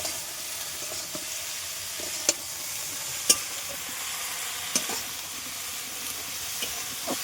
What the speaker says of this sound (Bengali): এবারে অল্প ঘেটে দিতে হবে।